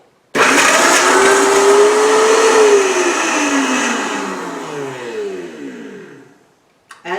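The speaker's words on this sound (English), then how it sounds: "let's put the lid on and let's get it started blending" A blender whirs loudly through a fruit and tea smoothie, starting abruptly, holding a steady roar with a pitch that rises then sags as the mix thickens, then cutting off near the end.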